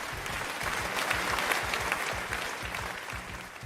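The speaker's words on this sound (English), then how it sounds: "an applause and congratulations is needed for Porsche." Group applause, a steady crackle of many hands at moderate level over a rhythmic low thumping beat underneath, lasting throughout.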